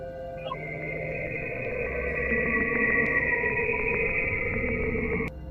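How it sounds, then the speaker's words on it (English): Saturn's radio emissions rendered as audio: a sustained eerie electronic tone with layered humming overtones and a low rumble, building slightly before cutting off abruptly near the end. "oscillating pulses that can be picked up and translated into audio."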